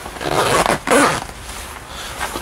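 A cycling jacket zipper is pulled in two quick, loud rasping strokes up close, followed by fainter rustling of the fabric, with no talking.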